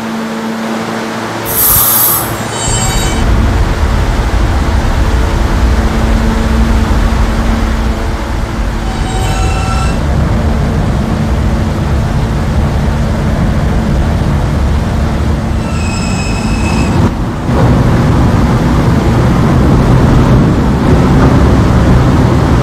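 A Roblox subway train, an R160A running as the K via the B line, rumbles steadily along the track, loud and close, with brief high squeals and clanks breaking in a few times over the continuous roar.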